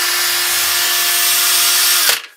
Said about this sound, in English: drill at a 45 degree angle using a 3mm drill bit either side of the half gear, weakening it